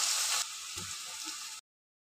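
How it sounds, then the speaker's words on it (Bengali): Thin potato sticks crackle in hot oil as they deep-fry, a dense steady sizzle that is louder at first, then softer, before cutting off abruptly to silence. "বাকি আলুগুলোকে ভেজে"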